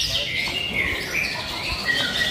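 A white-rumped shama (murai) songbird from rural Malang sings a continuous run of clear, high whistled phrases up close, with steady background noise throughout.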